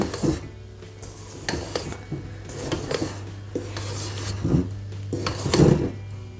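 Hazelnut dacquoise batter is poured into a mixing bowl and folded with a spatula, giving close, uneven scrapes, soft thuds and rubbing sounds that come in bursts over a low steady hum.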